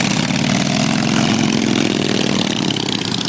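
A chopper motorcycle engine runs close by at a steady, loud, rumbling idle with a fast, even throb throughout.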